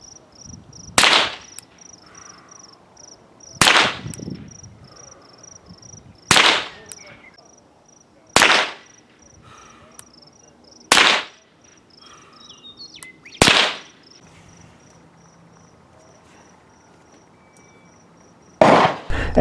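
Ruger 10/22 rifle fired in prone position at a 25-meter range, giving seven loud, sharp gunshots spaced roughly two to three seconds apart over a steady high insect drone, with no talking.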